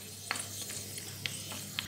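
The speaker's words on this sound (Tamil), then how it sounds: "அடுத்து கொஞ்சம் கிறிஸ்மஸ் பழத்தையும் சேர்த்து வறுத்துக்கலாம்." Cashews and raisins frying in ghee, a soft continuous sizzle with a spoon scraping the pan about three times at an even pace, close and quiet.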